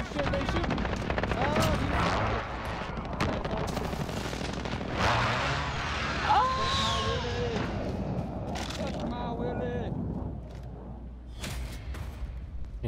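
Rapid automatic gunfire and bursts in a Call of Duty Modern Warfare Domination match, loud and continuous with sharp repeated shots and explosions, a player talking over the fighting.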